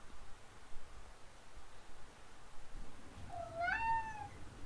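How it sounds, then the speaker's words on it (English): A chubby cat lets out one drawn-out, rising and falling meow near the end, faint against a steady hiss of background noise. "What's this chubby cat doing? It's like he's talking."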